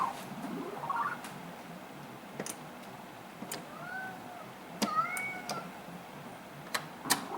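A pet cat meows several times, short rising and falling calls, fairly close, heard over a quiet arcade cocktail cabinet playing a vertical game, with scattered faint clicks and taps between the calls.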